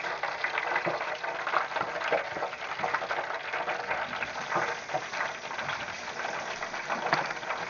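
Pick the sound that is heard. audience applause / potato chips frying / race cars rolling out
potato chips frying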